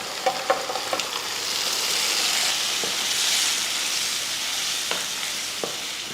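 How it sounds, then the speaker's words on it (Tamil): Gentle bubbling sizzle from a pan of green gram gravy simmering, with a few soft scraping clicks of a spoon stirring near the start and later. "லைட்டாக கொதிக்கட்டும் இது ரெண்டு சேர்ந்து நல்லா கொதிக்கட்டும்"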